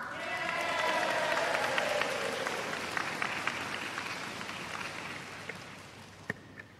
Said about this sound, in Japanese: 皆さん、盛大な拍手と応援ありがとうございました。